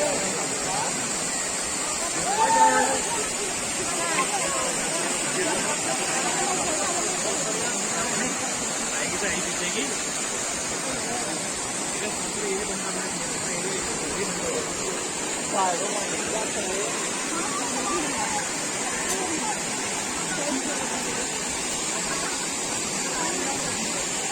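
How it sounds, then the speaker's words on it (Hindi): A waterfall roars steadily and loudly where people are bathing, with faint crowd voices mixed into the constant rushing water. "इस तरीके से नहाया जा रहा है यहाँ पे"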